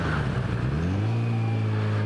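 A car engine drones steadily on the road, its pitch rising briefly then settling into a sustained hum, fairly close and with no talk over it.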